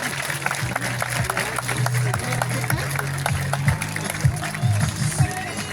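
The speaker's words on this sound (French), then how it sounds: "On va applaudir très fort Tanguy qui va retourner du coup dans le bâtiment." An audience claps at a marine park seal show, a rapid scattered patter over a humming low drone, while a voice speaks over a loudspeaker.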